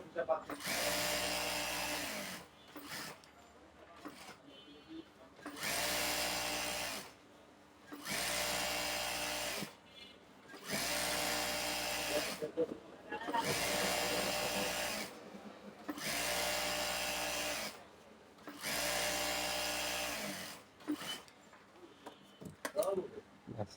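An electric sewing machine stitches the seams of palazzo trousers in bursts of steady whirring, about six runs of several seconds each with short pauses between them, loud and close.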